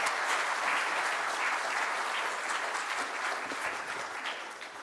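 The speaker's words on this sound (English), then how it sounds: "I think the panelists deserve a round of applause." Sustained audience applause at a seminar, thanking the panelists, a steady dense wash of many hands clapping that holds for about five seconds and tapers slightly at the end.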